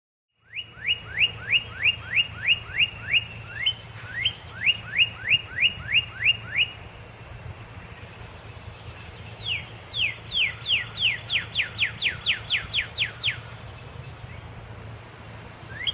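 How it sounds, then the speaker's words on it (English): A cardinal sings loud, clear series of rapid down-slurred whistles, repeated in bursts with short pauses, over a steady low hum. "Do you know what a cardinal sounds like?"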